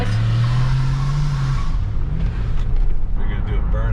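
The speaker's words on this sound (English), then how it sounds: "If you're gonna do a burnout, you better make sure you're starting in the street" A 600 HP turbocharged Yukon roars through a burnout, its loud engine drone dropping away into rumbling and tire noise as voices talk over it.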